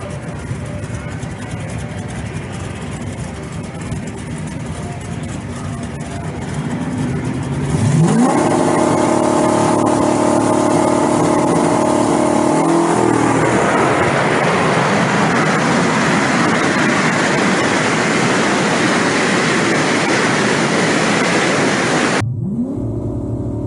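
A Tesla Model 3 Performance and a Mustang drag car launch down a drag strip, engine noise swelling sharply and holding loud and broadband for long seconds, a roaring surge that stays strong before cutting off abruptly.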